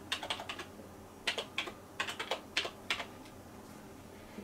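Fingers tap out a Wi-Fi password on a computer keyboard while setting up a Raspberry Pi 4 media centre: short bursts of crisp keystrokes in uneven clusters, close and fairly quiet, with no talk.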